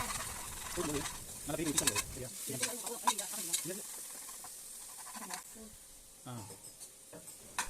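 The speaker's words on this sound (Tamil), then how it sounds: "இஞ்சி பூண்டு பேஸ்ட் போட்டுக்கோங்க. அதையும் நல்லா வதக்கிக்கோங்க." Ginger garlic paste sautéing and being stirred in a pan for a country chicken biriyani, with soft sizzling and scraping stirs at close range in bursts, spoon clinks now and then, no talk.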